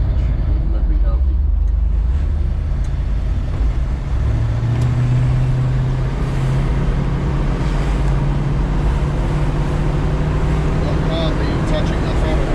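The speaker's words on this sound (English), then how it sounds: "It's got a nice crisp idle." A rebuilt 351M V8 engine in a 1978 Ford Bronco idles steadily, a continuous low rumble holding even throughout, with someone talking over it at times.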